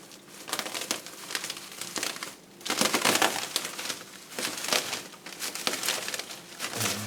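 Dull scissors snip and crunch through orchid plant material, close-up bursts of crackly cutting and tearing that come in uneven strokes with brief pauses between.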